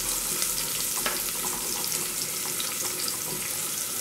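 Onion fries in plenty of olive oil in a pan, giving a steady, loud, close sizzle and hiss that runs without a break and has faint crackles scattered through it.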